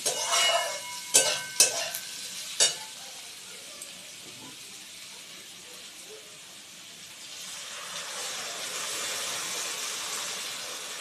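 Water added to frying potatoes in a pan, a few sharp hissing bursts at the start, then a lull before a steady sizzle and bubbling rise again.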